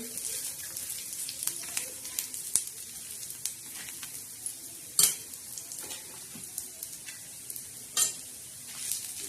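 Black masala spice mix of coriander, millet and dal dry-roasting in a pan, a steady hiss with repeated scraping stirs and a few sharp clinks of the spoon against the pan.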